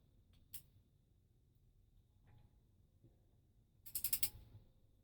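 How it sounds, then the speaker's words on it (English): On an Austin A35 A-series engine rebuild, a ratchet torque wrench tightens the cylinder head bolts, giving a few faint isolated clicks and then a quick burst of rapid ratcheting, close, in a quiet workshop with no talking. "Just tighten them all roughly around about the same torque as you're getting around"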